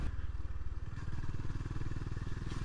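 Honda GB350S retro 350cc single-cylinder motorcycle ridden on a stock bike, a steady low engine thrum with rhythmic pulsing and wind rush, close and continuous throughout.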